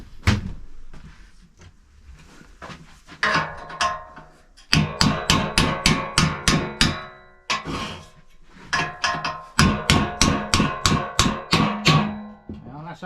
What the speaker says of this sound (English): Get a chisel in that, and might be able to get it off.